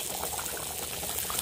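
Telugu fish curry (chepala pulusu) bubbles vigorously in a pot, a continuous close, thick burbling boil with steady popping and no voices.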